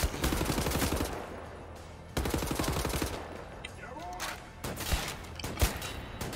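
Bursts of automatic gunfire from the video game Wolfenstein: The New Order, rapid repeated shots in several loud volleys separated by brief pauses, with scattered single cracks.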